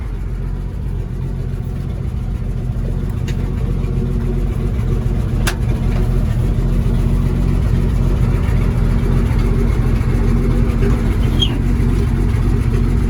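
A 1956 Dodge H6 truck engine runs steadily at close range on its first drive since 1989, a low rumbling drone that holds even throughout with no voices over it.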